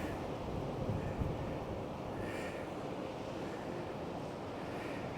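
Atlantic Ocean surf at a beach overlook in South Carolina, a steady broad wash of breaking waves with wind noise over the microphone and a faint crow calling now and then.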